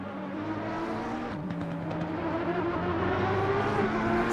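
GT3 race car engines in Assetto Corsa Competizione at Silverstone, including a V12 Aston Martin and a McLaren, drone and whir steadily, building slightly in intensity throughout with no voices.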